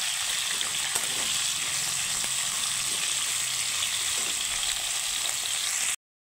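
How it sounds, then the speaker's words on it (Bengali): Potatoes and pointed gourd fry in hot oil with salt, giving a dense, steady crackling sizzle up close, with occasional stirring taps, then cutting off abruptly. "দিয়ে একটু হালকা লাল করে আমি ভেজে নেব"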